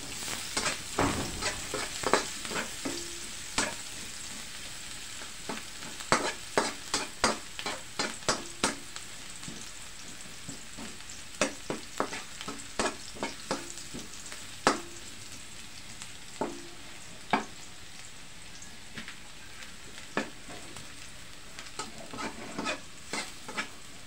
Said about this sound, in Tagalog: Hintayin natin pumula-pula ang bawang.